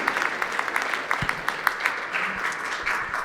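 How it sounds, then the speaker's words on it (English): An audience applauding patients and research coordinators, a brief burst of clapping from a modest crowd, fairly near and steady, with a few low thumps underneath. "So a big round of applause to all of you,"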